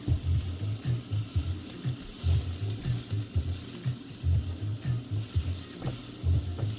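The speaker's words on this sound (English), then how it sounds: "Okay, so this is sauteed a bit." Mung bean sprouts and Myojo sweet habanero sauce yakisoba noodles saute in a hot pan, giving a steady close sizzle broken by rhythmic stirring and scraping. No one speaks.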